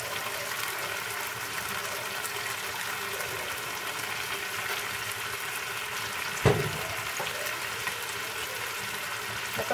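Chicken stir-fries in a pan with sweet black soy sauce, light soy sauce and sugar, giving a steady, close sizzle that runs throughout, with one sharp clack of a utensil midway and no talking.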